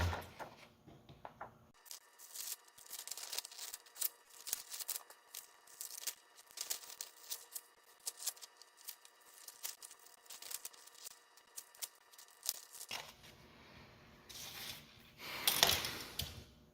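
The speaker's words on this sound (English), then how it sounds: "We cut into that little notch right there" Scissors snip into a small notch in a paper pyramid net, a close, quiet run of crisp cuts and crinkling paper handling that goes on throughout, with no talk.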